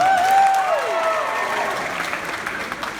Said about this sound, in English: Another round of applause for Christina.